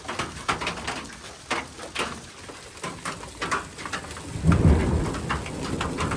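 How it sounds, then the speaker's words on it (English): Hailstorm with rain and thunder at a house reachable only by boat: scattered sharp pattering and ticks of falling ice and rain, and a deep rumble of thunder rolling in near the end, no speech. "I haven't seen hail in like a decade."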